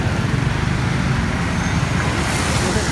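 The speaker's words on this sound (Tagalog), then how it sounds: "Ito pala e-jeep." Electric jeepney moving through busy street traffic among motorbikes and cars, a steady loud roadway rumble and hum filling the scene without a distinct engine note.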